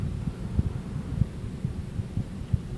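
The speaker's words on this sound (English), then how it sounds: "It's really cranking out some air, and that's because it's powered by a Emerson K55 stack motor." An Emerson Legend 52-inch ceiling fan with a K55 stack motor running, a low, steady hum with soft rhythmic throbbing pulses, close and fairly quiet.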